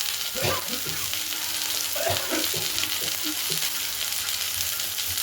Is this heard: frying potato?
yes